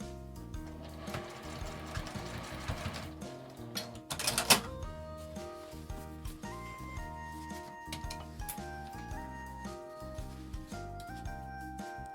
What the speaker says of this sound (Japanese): 端から5ミリぐらいに仮縫いします。